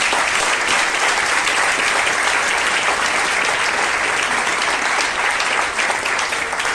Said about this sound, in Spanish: ¿No le podemos dar un fuerte aplauso al Señor?